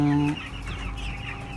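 Broiler chickens cluck softly in a simple closed chicken house, a continuous low chorus of overlapping clucks and murmurs from many birds, moderately close.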